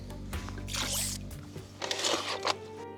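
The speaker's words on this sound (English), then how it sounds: "As I bail out water here." Water is bailed out of a fishing boat in Kentucky. Near, wet scoops, pours and splashes come in two bursts over a low rumble, with no talk.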